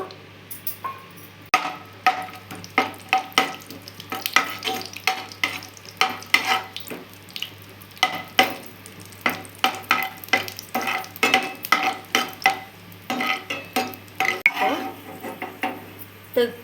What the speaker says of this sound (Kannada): ತುಪ್ಪ ಒಂದೆರಡು ಟೇಬಲ್ ಸ್ಪೂನು ಗೋಡಂಬಿ ಒಂದು ನಾಲ್ಕು ತುಪ್ಪದಲ್ಲಿ ಹುರ್ಕೊಬೇಕು